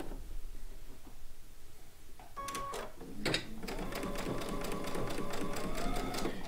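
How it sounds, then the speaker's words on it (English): Sewing machine stitching pieces of a chicken pin cushion together, starting after a few quiet seconds with clicks and then a steady whirring run that holds to the end. "We'll sew those first two together."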